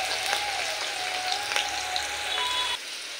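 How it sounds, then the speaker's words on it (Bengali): Diced potato frying in oil with a spice tempering makes a steady, soft sizzle dotted with small crackles and pops, with a faint thin tone in the background and no talking. "আলুটা একটু ফোড়নের সাথে ভেজে নেব"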